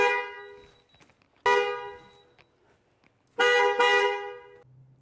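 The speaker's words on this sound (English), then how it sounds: "as soon as it picks up the signal, it'll honk the horn to let us know" Car horn sounding as a tire pressure sensor is relearned, three loud honks, the last two close together as a double honk, with quiet handling noise between.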